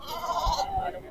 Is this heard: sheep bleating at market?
yes